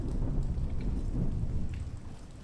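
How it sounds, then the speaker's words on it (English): Rain falling in the Skyrim Special Edition video game, a steady, dense hiss with a heavy low rumble underneath, continuous and fairly loud throughout, with no talking. "Oh no, it is raining still."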